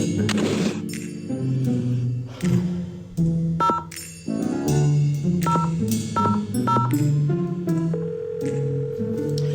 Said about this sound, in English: No more manually dialing 10-digit phone numbers.